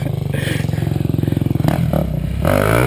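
A Husaberg dirt bike climbing a hill, its engine giving a loud, close, pulsing chug that surges and strains, followed by clattering and a rougher burst near the end.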